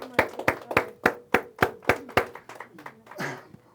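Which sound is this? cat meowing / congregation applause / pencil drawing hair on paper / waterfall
congregation applause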